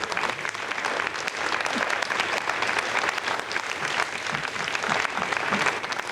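Sustained, loud applause from a crowded Ariane 5 launch control room fills the space steadily, dense overlapping clapping with faint cheering underneath.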